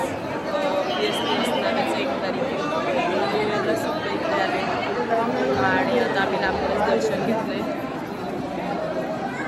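A packed Ganpati temple hums with continuous crowd babble, countless overlapping voices holding a steady, loud wash of chatter throughout.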